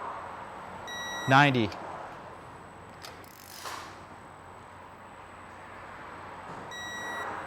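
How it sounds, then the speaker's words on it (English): A digital torque wrench signals with a brief rising electronic beep while tightening Malossi cylinder-kit bolts on a Vespa Sprint/Primavera, with a short mechanical rasp afterward. Someone talks nearby. "I'm just doing it because I hear the torque wrench"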